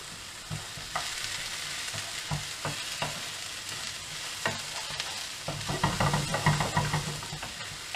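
Mince for chilli frying in a hot pan, a steady close sizzle with intermittent scraping knocks of a utensil stirring it, growing busier toward the end, no voices.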